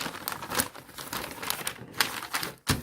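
Fabric for cycling bibs is folded up along a drawn line, giving close, dry crinkling and rustling in quick bursts with no voices.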